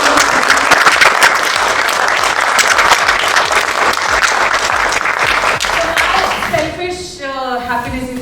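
A large audience breaks into a loud, sustained round of applause at an evening gathering, dense clapping filling the air before tapering off as a voice starts speaking near the end.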